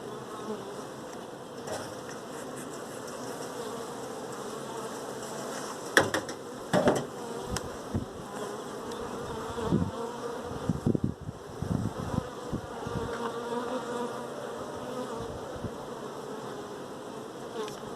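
Honeybees buzz steadily around beehives in a continuous low drone, with occasional clicks and knocks from hive handling standing out against the hum.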